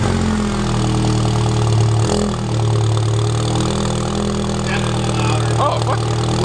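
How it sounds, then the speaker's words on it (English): A VW MK7 GTI engine fitted with an AWE cat-back exhaust and APR downpipe idles loudly up close, its steady low drone briefly dipping, while people talk faintly in the background. "We're going to see how the AWE exhaust sounds with the Apr downpipe."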